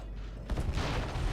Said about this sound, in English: launch a repulsion torpedo at the enemy battleship, then sit back and watch the fireworks!